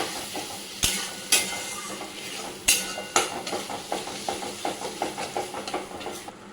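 Whisked sour yogurt cooking with spice masala in a pan gives a steady sizzle and bubbling, broken by sharp scrapes and clanks of stirring, then a run of rhythmic spoon taps against the pan.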